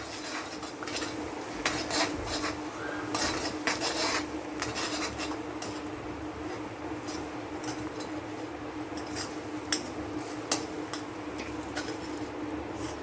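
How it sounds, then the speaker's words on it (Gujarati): A spoon stirs a paste in a pan over a low gas flame for a Gujarati dish, making steady scraping and rubbing with scattered light metallic clinks, close and continuous over a constant background hum. "આપણે આને ધીમા ગેસ ઉપર હલાવતા રહીશું અને કૂક કરી લઈશું"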